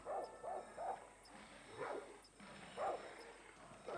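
A dog named Guapo barks in the Far Cry 6 video game, a series of short yips and woofs spaced out over a few seconds, moderately distant amid game ambience.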